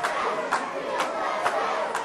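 A crowd at a pro wrestling match, Tony Atlas against Brickhouse Baker, keeps up a steady roar of cheering and chatter, punctuated by several quick, sharp claps or shouts at regular intervals.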